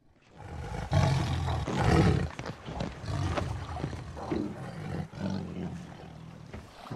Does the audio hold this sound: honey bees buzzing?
no